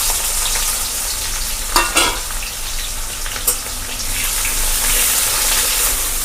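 Sliced onions hiss in hot spiced oil for a Bengali chicken and potato curry, a steady loud sizzle broken by two brief stirring scrapes partway through.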